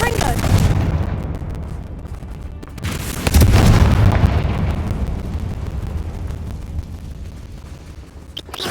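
In the video game Hogwarts Legacy, the Confringo spell goes off in two deep booming explosions, a few seconds apart, each trailing off into a fading rumble.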